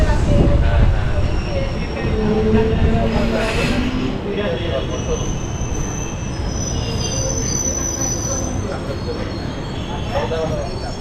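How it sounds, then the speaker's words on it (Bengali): A Katwa–Ahmedpur passenger train pulls into platform 1 at Labpur station, its wheels squealing loudly against the rails over a steady rumble, with a faint voice underneath. "Katwa Ahmedpur passenger train finally 39 kilometre অতিক্রম করে পৌঁছে গেল লাভপুর স্টেশনে"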